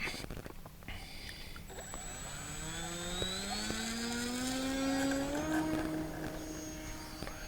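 An MA11 Mini Apprentice model airplane's electric motor whines up to full power for takeoff outdoors near a barn, the pitch climbing steadily and holding as a loud, continuous buzzing drone.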